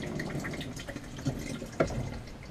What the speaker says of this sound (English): When you're finished, use the flush.